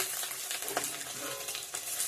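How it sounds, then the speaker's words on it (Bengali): An egg frying in hot oil in a pan gives a dense, even sizzle and crackle, close and steady throughout the short stretch. "এখানেই ভেজে নিচ্ছি"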